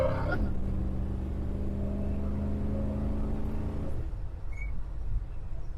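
Close engine drone from a 1966 Chevrolet C-10 pickup truck as it pulls in gear, a steady low rumble that shifts pitch around the change into second and then settles.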